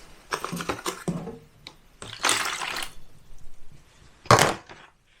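Water splashes and pours out of a drained washing machine filter in short bursts, a sloshing stretch, then a sharp final splash, close and moderately loud with no talking.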